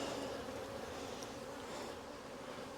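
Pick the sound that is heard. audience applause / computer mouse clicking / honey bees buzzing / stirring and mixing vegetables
honey bees buzzing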